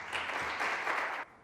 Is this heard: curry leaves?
no